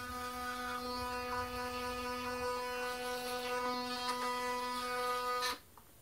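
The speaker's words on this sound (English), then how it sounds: "Kind of brush my teeth." An electric toothbrush hums steadily and close by, used without toothpaste, running alone for about five seconds before switching off abruptly.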